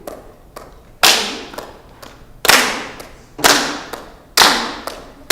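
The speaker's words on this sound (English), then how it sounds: "The claps fall on 3, 3, 2, 2, 2." Sharp, close hand claps ring out in an uneven, grouped rhythm, with loud accented claps spaced by softer ones and brief decaying echoes in a quiet room.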